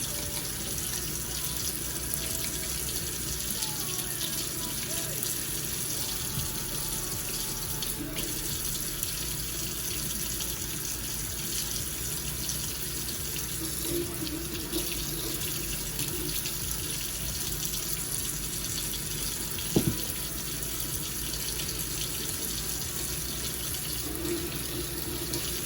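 Continuous running tap water pours into a sink while a makeup brush cleaner is wetted, a steady rushing flow with a brief knock near the end.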